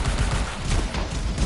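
Dense gunfire aimed at turrets in the Anthem video game, a continuous loud barrage of overlapping shots with no clear gaps.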